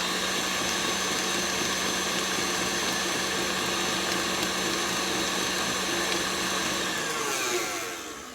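An electric mixer beats cream cheese and sugar for cream cheese cookie dough at high speed, a loud steady motor whir held for about eight seconds before easing off at the end.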